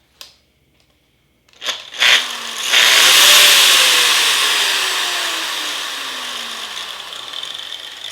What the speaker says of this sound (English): when you pull the trigger, it doesn't just Snap. It's not all or nothing. It slowly starts up.